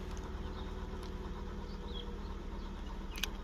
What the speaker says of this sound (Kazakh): автокөлік отталды.